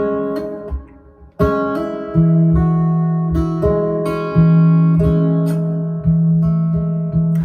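A guitar plays a song slowly, with plucked notes and chords ringing out one after another in a steady, unhurried rhythm, clear and close with no voice.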